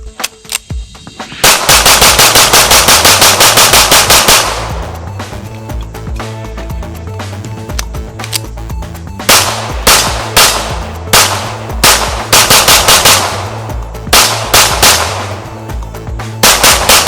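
Rapid strings of sharp, loud shots from a Springfield Prodigy 1911-style double-stack 9mm pistol, fired in quick bursts with brief pauses between volleys at an outdoor range.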